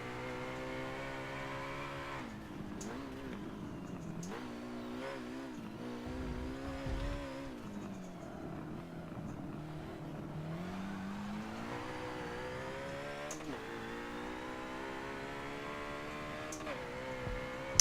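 A race car lapping a track in Forza Motorsport 7, its engine droning steadily with rising and falling pitch through gear changes and corners, with occasional sharp clicks and no talk.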